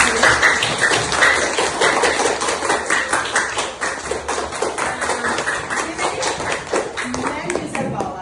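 A school class applauds in a steady run of close, sharp handclaps that continues throughout, with voices mixed in among the clapping.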